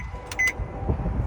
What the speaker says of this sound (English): You only heard the beeping sound